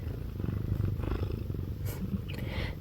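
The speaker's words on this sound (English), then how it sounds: "Can you hear her purring?" A cat purrs steadily up close, a low continuous rumbling throb with a regular rhythm, fairly loud and heard alone throughout.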